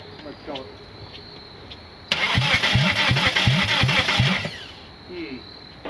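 A 420A car engine cranks over from about two seconds in, a loud rhythmic starter churn with repeated pulses that runs for roughly two and a half seconds without catching, then stops; quiet background before and after.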